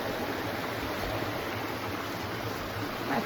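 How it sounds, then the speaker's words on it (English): A river being forded on the last day of a 100-mile wilderness hike gives a steady, close rush of flowing water that holds an even level throughout, with no voices. "River crossing number 3."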